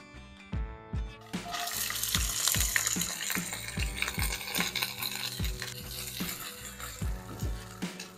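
Lentils poured into a pot of sizzling sautéed soffritto, with a steady hiss of frying under repeated sharp clanks and scrapes of stirring at a roughly even rhythm.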